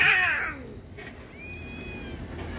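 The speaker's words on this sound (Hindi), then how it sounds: "ये देख इस साइड में भी कितनी तादाद है बिल्लियों की" A cat gives a loud, close meow at the start, then a thinner, fainter mew follows about a second later over quiet background noise.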